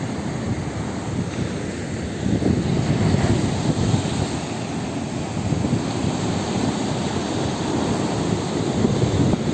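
Rough sea waves crash steadily against the Ayancık shore on the Black Sea coast in winter, a continuous loud roar of surf mixed with wind rumble, with no voices.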